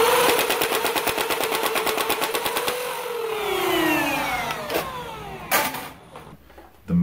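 Custom Nerf Halo MA5-N assault rifle blaster fired in a fast full-auto burst, its motor whirring up and winding down afterward, with a few clacks, close and loud with no talking.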